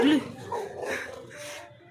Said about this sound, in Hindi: वो कबूतर पे भौंक रहा